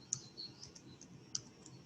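Light keyboard clicks as a search is typed into a stock trading app: a few sparse, quiet keystrokes spread over a couple of seconds in an otherwise hushed room.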